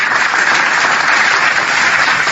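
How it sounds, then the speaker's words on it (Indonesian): Loud, dense audience applause at a religious talk, many hands clapping together in a steady roar that holds evenly throughout, with no voices rising above it. "Tepuk tangan."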